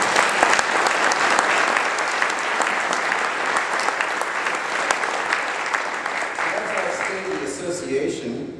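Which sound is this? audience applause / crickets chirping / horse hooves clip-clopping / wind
audience applause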